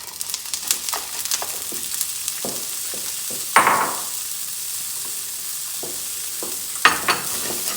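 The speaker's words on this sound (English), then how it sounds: "the oil is hot, and the first thing I'm going to add is frozen peas" Frozen peas frying in hot oil, giving a steady sizzle broken by several sharper spits and crackles, close and clear, with no talking.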